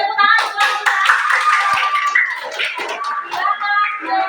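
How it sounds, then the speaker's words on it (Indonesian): Close, lively clapping from a classroom group during a coaching session, a brisk, steady patter of many hands filling the whole stretch with a few brief voices mixed in. "terima kasih tepuk tangan buat kita"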